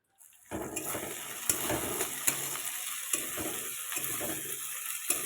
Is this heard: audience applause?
no